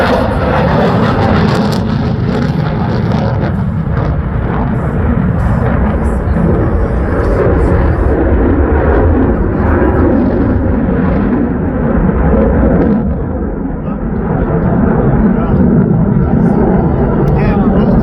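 An F-35 fighter jet roars past at an airshow, a loud sustained rumbling thunder that fills the whole stretch, with crowd voices mixed under the engine noise.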